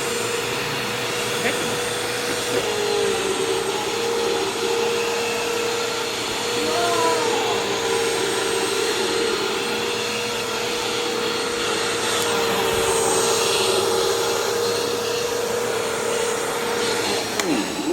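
A Bissell CleanView Swivel Rewind pet vacuum cleaner runs continuously at close range, a loud steady motor whine with shifting airflow as it sweeps, and no talking.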